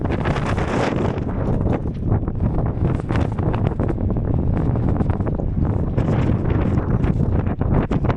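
Strong gusty wind, gusting to 34, roars continuously in the American Southwest, buffeting the microphone with heavy rumbling bursts that rise and fall without pause.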